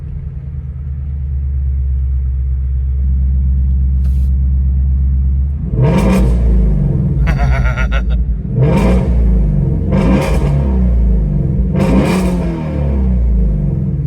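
Ford Mustang Shelby GT350R with exhaust valves closed: a steady deep idle rumble, then a series of four or five sharp, loud throttle blips that swell and fall back, close by and with no voices.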